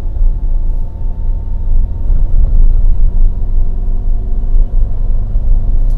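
Toyota Avanza with the 1300 engine, pre-VVT-i, driving uphill with the air conditioning cycling on and off, a loud steady low engine drone and road rumble heard from inside the cabin, without talk.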